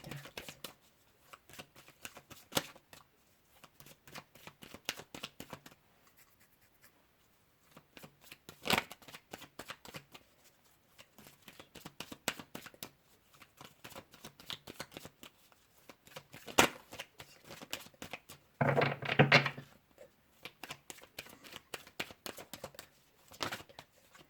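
Tarot cards are shuffled in quiet, intermittent bursts of soft riffling and flicking, with pauses between handfuls and one louder shuffle near the end.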